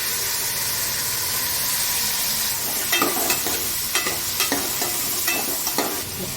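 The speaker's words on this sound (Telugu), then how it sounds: "అంటే ఇప్పటికి జస్ట్ ఎగ్ ఫ్రైస్ చేస్తున్నాం" Boiled eggs frying in a pan with ghee for egg biryani, a steady close sizzle with a spatula stirring and scraping in several distinct strokes partway through.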